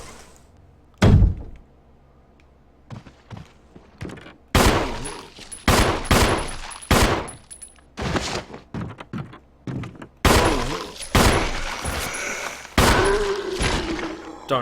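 Repeated gunshots in the survival horror game Resident Evil 1 HD, loud sharp blasts spaced irregularly, some in quick bursts, with a muffled thud early on and echoing tails between shots.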